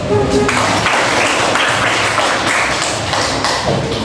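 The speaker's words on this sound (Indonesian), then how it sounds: "Aplaus." Applause breaks out in a classroom, a dense run of clapping hands filling the room for several seconds at steady, fairly loud level with scattered sharper taps and no talk over it.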